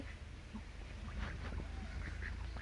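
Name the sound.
ducks quacking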